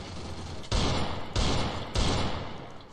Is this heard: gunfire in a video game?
yes